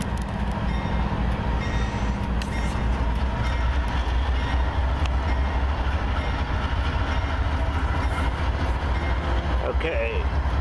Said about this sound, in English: on this westbound train we have unit 7292 leading